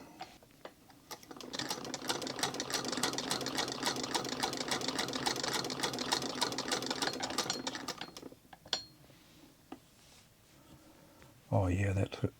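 An 1898 Singer 28-2 sewing machine stitching in a quick, even clatter of rapid needle strokes for about six seconds, then stopping, followed by faint handling noises and a brief voice.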